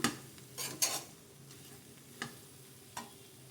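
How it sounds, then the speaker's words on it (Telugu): Prawns frying in masala in a pan, stirred with a few scraping strokes and brief sizzling bursts, plus a couple of sharp clinks of utensil on metal; moderately quiet, with no voices. "వేసుకున్నప్పుడు ఒకసారి కలిపేసుకుందాం. చూడండి, ఆ మసాలా మొత్తం రొయ్యలకి పట్టేసి ఏ విధంగా ఉందో."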